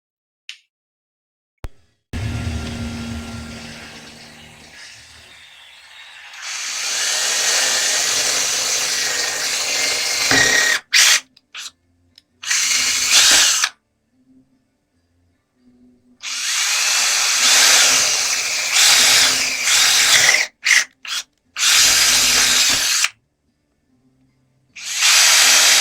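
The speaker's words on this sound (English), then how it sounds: "All right, I got all the holes drilled." Power drill boring wire holes through an electric guitar body, running in several loud bursts of whirring with stops and short gaps between them, no talking.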